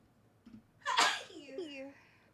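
A single loud, close sneeze from a person during a Baldur's Gate 3 gaming session, with a short intake of breath before it and a faint trailing voice after.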